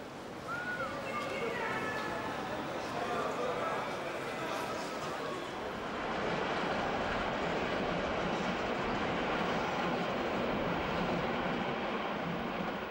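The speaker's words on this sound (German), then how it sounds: "Einfahrt hat ein Silberling-Steuerwagen, geschoben von einer E41." A Silberling driving-trailer train pushed by a DB class E41 electric locomotive rolls steadily into a station in Nuremberg, with a broad rumbling roar that swells in the second half, faint squeals early on and some background voices.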